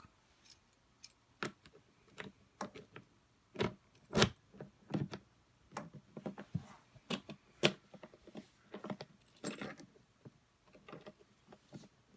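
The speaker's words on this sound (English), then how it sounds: "Comes with these keys," A set of keys and a spare lock for Shad SH23 motorcycle side cases jangle and clink up close in scattered bursts of sharp metallic taps, with short quiet gaps between them.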